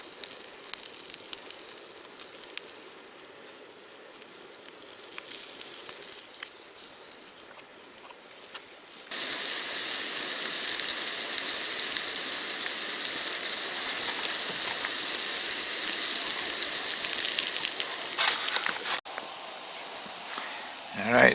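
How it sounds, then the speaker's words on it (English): Flour-dusted, salt-and-peppered trout fillets frying in garlic butter at a lakeside camp, a soft crackle that jumps to a loud, steady hiss partway through and then holds without talk. "we'll cover these trout fillets with flour and salt and pepper them a little bit and fry them in garlic butter"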